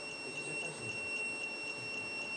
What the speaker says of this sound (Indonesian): lebih dia alarm berbunyi